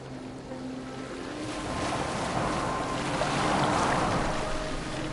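A boat moves across open water in Assassin's Creed Valhalla, giving a steady wash of waves and hull noise that swells gradually, with no talking.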